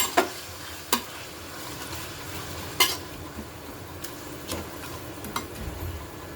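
Chicken and tomatoes cooking down together in a pan for chicken biryani, giving a steady soft fry with occasional sharp clicks of a spoon against the pan, with no one talking.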